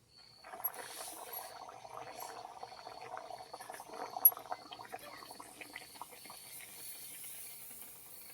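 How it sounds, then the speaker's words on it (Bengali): Dal puri frying in hot oil makes a quiet, steady sizzle and bubbling with small crackles, heard close up while faint speech drifts in the background. "এইভাবে সবগুলো আমি ভেজে নেব।"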